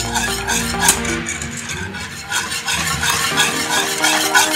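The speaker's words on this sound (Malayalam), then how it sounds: "ഈ 3 ഇൻഗ്രീഡിയൻസും കൂടെ നന്നായിട്ട് ഒരു ഹാൻഡ് ബീറ്റർ യൂസ് ചെയ്തിട്ട് കട്ട കെട്ടാണ്ട് നന്നായിട്ട് ഒന്ന് ബീറ്റ് ചെയ്ത് കൊടുക്കാം" A hand beater whirs and rattles through a bowl of coconut mousse ingredients, a close, continuous mechanical churn with uneven scraping surges.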